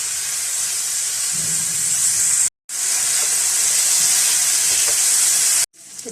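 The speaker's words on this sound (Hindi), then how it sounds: "2 टेबल स्पून ऑयल डालेंगे और चिकन को फ्राई कर" Marinated chicken fries in two tablespoons of oil, giving a steady loud sizzling hiss that cuts out briefly twice.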